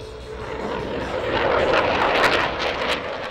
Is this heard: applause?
no